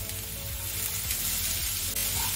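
Cauliflower and spices fry in a pan with a loud, continuous sizzle, close up and steady, with faint stirring scrapes and no talk.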